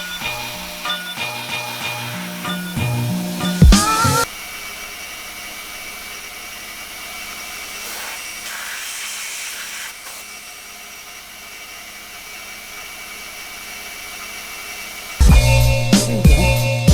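A router cuts metal strut mount plates for an E46 build, a sustained high whining hum with a roaring edge running for about ten seconds, framed by louder clattering workshop noise at the start and end.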